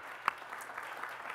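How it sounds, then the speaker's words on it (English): A tech conference audience gives the AV team a brief, faint round of applause, soft scattered clapping heard from a distance, with one sharper clap standing out near the start. "everyone give them a round of applause"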